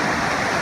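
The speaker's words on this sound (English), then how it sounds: "You can see the water's going down pretty good" Fast-flowing mountain stream rushing steadily on a hiking trail near Mt Forgotten, a broad, constant wash of water close by with no pauses.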